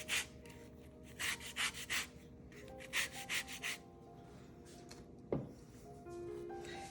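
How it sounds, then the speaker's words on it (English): An orange being zested for cranberry orange bread: a zester scrapes the peel in short bursts of dry, rasping strokes, close and fairly quiet, with a single sharper knock partway through and no talking. "So I just make a couple passes and get that orange part off, and I'll zest the entire orange."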